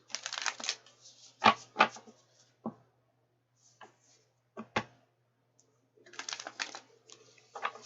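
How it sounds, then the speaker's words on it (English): A deck of tarot cards is shuffled by hand in short, crisp riffling bursts separated by pauses and a few sharp taps, close and fairly quiet in a silent room. "I love shuffling these cards. This is my favorite deck to shuffle, honestly."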